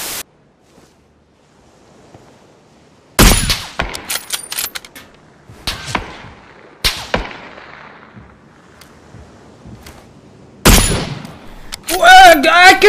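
Gunfire in the battle-royale game PUBG: several sharp, loud broadband bursts in a sparse sequence with quieter gaps between, a longer volley near the end, with a voice talking in places.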